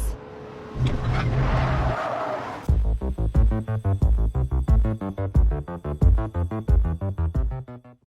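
An Acura car performs driving stunts, its engine roaring loudly near by with a burst of tire noise, then revving in rapid repeated pulses over several seconds.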